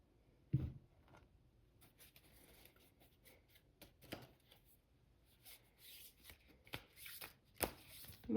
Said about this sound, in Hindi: मैं इन कार्ड्स को शफल कर लेती हूँ